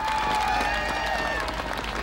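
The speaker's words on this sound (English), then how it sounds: "And give Paul and Val a big round of applause." Audience applause at a President Obama event in Reno, Nevada, a brief, loud, continuous burst of clapping and crowd noise with faint tonal sounds threaded through it.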